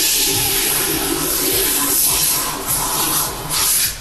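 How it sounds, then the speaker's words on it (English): Water sprays hard from a hose into a washroom floor drain, a loud steady hiss lasting the whole stretch with small dips in strength, close up and with no talking over it. "This is just simply water, okay? And I'm just going to spray in here"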